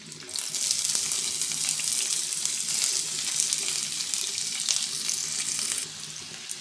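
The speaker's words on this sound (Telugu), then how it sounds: "వేసి మంచిగా ఫ్రై చేసుకోవాలి" Garlic, green chilli and onions fry in a pan for fish cutlets, a loud steady hiss of hot oil crackling without letup, thinning slightly near the end, with no talking.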